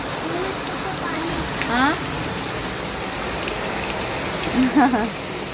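Rainwater leaking into a house during rain, heard as a constant wet hiss of falling and running water, with two short vocal sounds rising over it.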